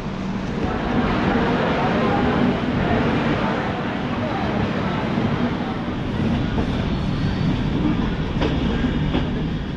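Dhauli Express passenger train rolling along rails, a steady loud rumble with faint rhythmic clatter throughout, heard from inside a coach with some voices in the background.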